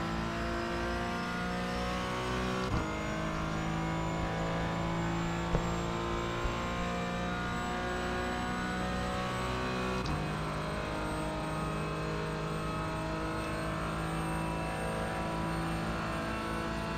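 Race car engine during an iRacing video game race at Daytona, a steady loud drone held at high revs with slight pitch shifts and brief gear-change breaks, continuous and close, with no talking.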